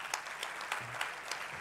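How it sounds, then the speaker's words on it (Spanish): Audience at the POEFESTA 2022 poetry festival applauding, a dense, steady wash of clapping from a crowd at moderate distance, with no voices over it. "Que bé que m'aplaudiu això."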